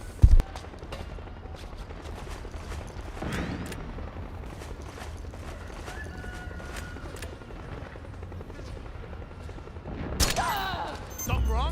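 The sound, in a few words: gunshots in Metal Gear Solid 4 video game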